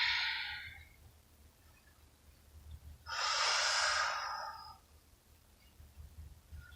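Two soft, airy exhalations during a beginner yoga flow, one brief at the start and a longer, fuller breath midway, close and clear against a quiet room.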